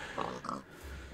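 A pig on a Minecraft farm gives a couple of short, close oinks and grunts, with faint game sounds around them.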